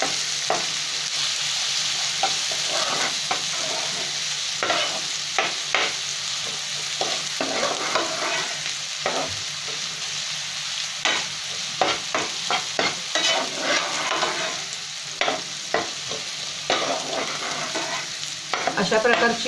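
Onion sautéed until pink for an Agri-Koli style prawn curry: a steady frying hiss runs throughout while a spatula scrapes and taps the pan in frequent close strokes, busiest in the second half.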